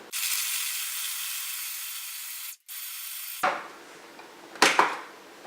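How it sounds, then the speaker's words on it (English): A food processor grinds meat pieces with a steady, loud whirring roar that briefly cuts out and then stops, followed by a couple of short, sharp pulses. "now I'm going to grind it up in the food processor"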